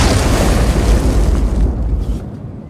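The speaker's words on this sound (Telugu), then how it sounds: "చూస్తే అది బంతి కాదు, బాంబు." A bomb detonates in a Telugu zombie film action scene, a loud, deep booming blast that rumbles heavily and then tapers off over a few seconds.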